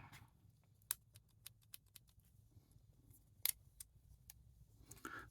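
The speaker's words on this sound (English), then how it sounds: "I also have a decent pair of scissors," A pair of locking scissors is handled up close, giving a string of small metallic clicks and ticks at irregular intervals, with one sharper snap in the middle, over a faint low background hum.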